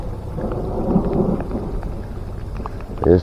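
Rumbling thunder rolls low and steady under light rain at a bass fishing pond, with no voices and a short louder burst near the end.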